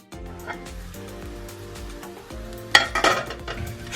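Okonomiyaki with bacon fries in a lidded pan on medium heat, a soft steady sizzle beneath background music, swelling into a louder crackling burst toward the end.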